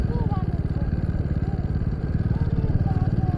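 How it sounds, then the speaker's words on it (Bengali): A motorcycle engine thrums at a steady, rapid pulsing idle-to-cruise rhythm while riding a winding mountain road in the hills between Siliguri and Gangtok, loud and close throughout. "এই পাহাড়ে বাইক চালানো।"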